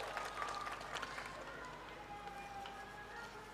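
An audience claps to welcome Pasha Patel at a public gathering, a faint, distant spread of applause that thins out over a few seconds with crowd murmur beneath.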